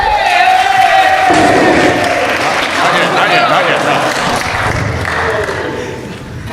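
A staff orientation crowd bursts into loud, sustained clapping and cheering as a chef is introduced, with a voice briefly speaking over the dense roar.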